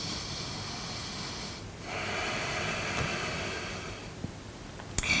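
A slow, steady yoga inhale breathed audibly through the nose, a soft airy hiss that swells and holds over several seconds against quiet background hiss.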